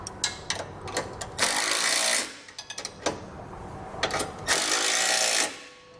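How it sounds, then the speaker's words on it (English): Power tool bursts snug up the bolts of a Blue Ox base plate kit on a 2019 GMC Acadia. Short rattling pulses alternate with two longer sustained whirring runs, close and loud. "we can now come back and snug up these two bolts first"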